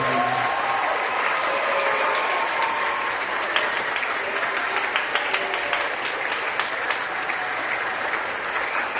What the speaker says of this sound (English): let's give these 6th graders a huge round of applause for their hard work